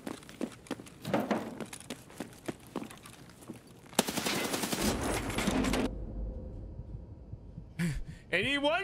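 In the video game Escape from Tarkov, the enemy Tagilla fires rapid bursts of gunfire, followed by a louder stretch of sustained, dense noise and a final sharp burst.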